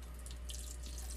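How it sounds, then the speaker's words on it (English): Reverse osmosis filtered water runs quietly into ice cube trays, a soft, steady trickle and splash heard close up. "The trays are cheap and reusable, so we fill them up periodically when we've run out of ice."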